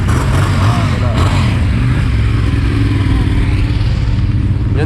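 Yamaha R6 motorcycle engine at the Valencia Ricardo Tormo circuit, loud and close, a continuous buzzing drone with shifting harmonic sweeps as revs change, with wind noise throughout.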